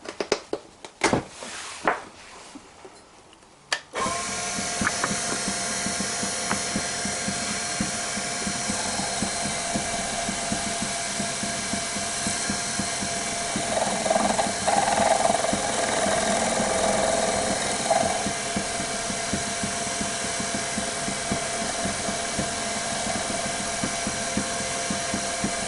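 A wooden chess knight spins on a lathe while 600 grit sandpaper is pressed to it, a continuous whirring hum with a faint rasp that swells in the middle, after a few brief knocks at the start.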